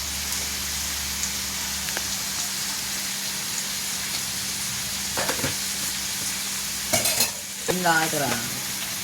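Masala with chili powder and salt fries and gets stirred in a pan, a steady sizzle under scattered scraping strokes that grow louder near the end.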